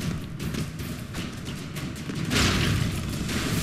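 Dense, continuous explosions from the Broforce video game roll on for several seconds as booms and thuds pile up into a loud, crackling barrage that swells louder in the second half.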